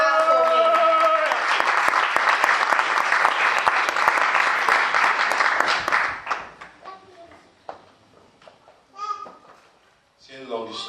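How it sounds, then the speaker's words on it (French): Audience applause from a crowd at a church gathering, loud and dense for about six seconds, then fading into scattered claps and murmuring voices. "So clap for me."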